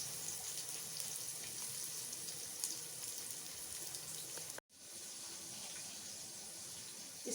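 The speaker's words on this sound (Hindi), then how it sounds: "इसमें जो हमने प्याज स्लाइस करके रखी थी वो डाल देंगे और इसको हल्का हल्का सा" Sliced onions frying in hot oil, a steady dense sizzle with a brief dropout midway before the crackle resumes at an even level.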